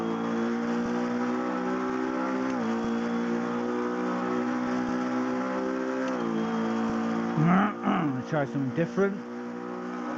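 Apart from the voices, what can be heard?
sim racing car engine revving, racing simulator video game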